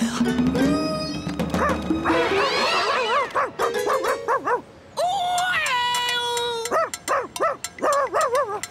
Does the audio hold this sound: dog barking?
yes